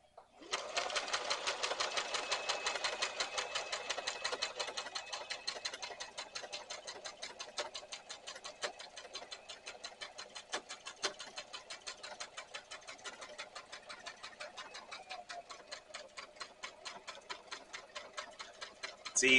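A sewing machine stitches an over-the-seat rifle carrier in a steady, rapid run of close, even needle ticks that continue for the whole stretch, slowing and easing slightly toward the end, with no talking.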